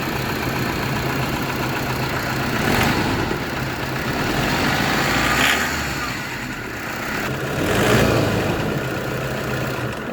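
A 2011 Toyota Innova 2.5 G with its engine idling, heard close from the engine bay as a steady, moderately loud rumble with slight swells and dips over ten seconds.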